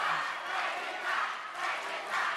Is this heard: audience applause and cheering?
yes